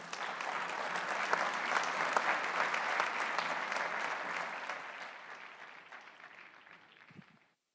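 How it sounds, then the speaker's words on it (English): At the 24th UNWTO General Assembly, a large hall applauds the Secretary General. The clapping is dense and even, and after about five seconds it fades gradually to silence. "A warm round of applause, please, for Secretary General Zura Pololikashvili."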